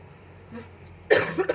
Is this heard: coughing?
yes